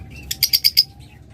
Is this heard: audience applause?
no